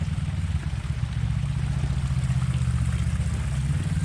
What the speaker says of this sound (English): I just pulled up on a side-by-side, so sorry for the noise.